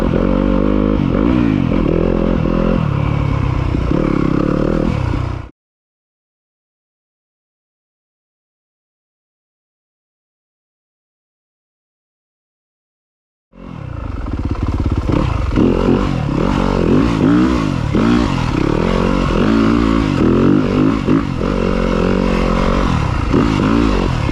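A Yamaha YZ250FX dirt bike tears along a single-track trail, its engine loud and close with rising and falling revs and clattering, then cutting to total silence for several seconds before roaring back.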